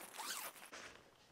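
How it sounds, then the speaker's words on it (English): A zipper on the mesh screen door of a budget instant family tent is pulled along in one steady run, then a short second tug, close and fairly quiet. "Each side has a zipper along the bottom and one that goes up in the middle."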